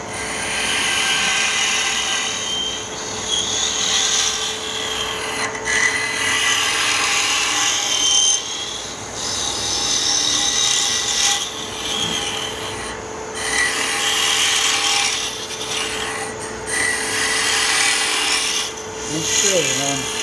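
A hollowing tool scrapes and rasps inside a wooden Christmas ornament spinning on a lathe, a continuous gritty cutting sound with a steady motor hum beneath, briefly easing off in short pauses between passes.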